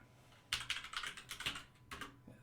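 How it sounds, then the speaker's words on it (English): A really noisy computer keyboard clacks under quick typing, a burst of sharp, uneven keystrokes close to the mic and fairly quiet overall. "As I type away on my really noisy keyboard"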